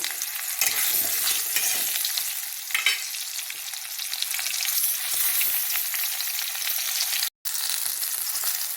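Raw green mango sizzles loudly in hot mustard oil left from frying fish, with mustard seeds and dry red chilli, a dense steady crackle that holds throughout and cuts out for a moment near the end.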